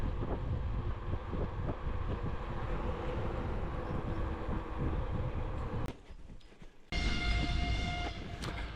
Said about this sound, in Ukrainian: Ось і електричка наша до Львова